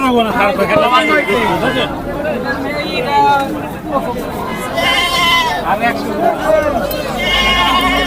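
Goats bleat repeatedly at a crowded goat market in Dhamrai, Dhaka, where local castrated male goats are sold, with wavering cries rising over constant crowd chatter and nearby voices.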